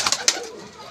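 Pigeons in a loft give a few quick, soft coos and wing flutters up close, brief and fading within a second.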